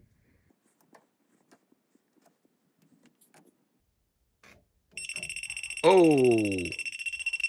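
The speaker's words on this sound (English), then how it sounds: "I'm just airing out the detector so that it will stop alarming and reset so I can check the joint one more time just to be sure" A gas detector held near a leaking natural gas pipe joint bursts into a loud, shrill electronic alarm partway through and keeps sounding steadily to the end, after a quiet stretch of faint clicks; a voice exclaims briefly over it.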